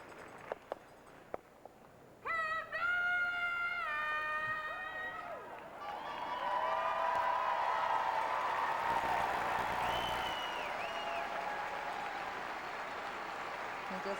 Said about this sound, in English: Just listen to the crowd sensing that this is the last stone being thrown by Marie-France